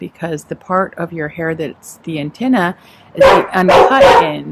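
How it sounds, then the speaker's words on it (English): Dogs barking and yipping in a home, several sharp barks growing louder and denser toward the end, close by and mixed under a person talking steadily. "Sorry for the dogs."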